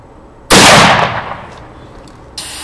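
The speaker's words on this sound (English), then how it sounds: "We are shooting the shot put cannon into the air." A shot put cannon fires into the air with a single loud, sharp blast that decays into a rushing hiss, followed by a fainter thud a couple of seconds later.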